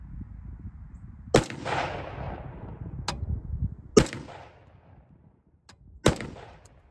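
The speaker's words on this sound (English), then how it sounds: "We're gonna fire the first three shots on camera to confirm zero" A rifle fitted with a budget red dot sight fires three sharp, loud shots outdoors, each followed by a rolling echo, spaced roughly two to three seconds apart over low background noise.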